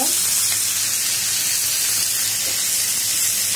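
Okra fries in a hot pan, giving a loud, steady close-up sizzle and hiss of oil that holds evenly from start to finish.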